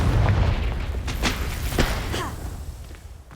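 The Confringo explosion spell in the video game Hogwarts Legacy, a short series of booming thumps and bursts at a moderate level over a low rumbling backdrop.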